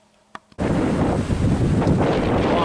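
A couple of small clicks, then a sudden loud roar of wind buffeting the microphone that continues steadily, outdoors in Tallinn, Estonia.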